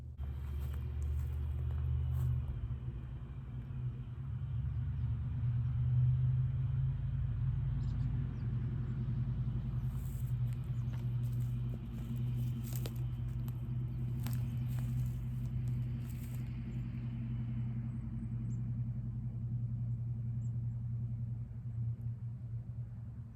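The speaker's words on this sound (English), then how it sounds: "Just some people driving by really slowly." A steady low rumble of cars rolling slowly past outdoors, continuous and moderately distant for over twenty seconds, with faint patter and small knocks on top.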